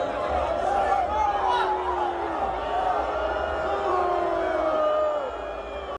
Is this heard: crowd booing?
yes